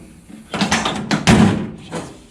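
The door of a 1970 Datsun 521 truck swings and shuts, a few close thuds and rattles of metal over about two seconds, loud and with no talk.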